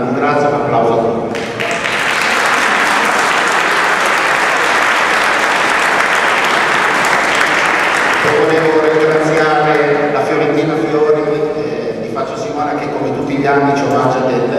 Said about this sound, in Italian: un grazie, un applauso a tutti